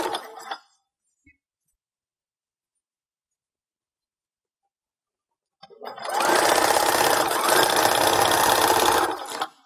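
Sewing machine stitching a Christmas Santa skirt, a brief faint burst at the start, then silence, then a loud steady run of stitching for about three and a half seconds before it stops.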